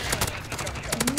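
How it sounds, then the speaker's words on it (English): A rapid string of gunshots rings out in Call of Duty: Modern Warfare, crisp repeated cracks in quick succession with a brief gap midway, loud and close. "He's shooting through barrels!"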